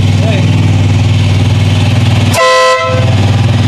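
A 3rd Millennium Marco air horn fitted to a 1990-1997 Mazda Miata gives one loud, sustained blast of about half a second, cutting over a steady lawnmower drone nearby.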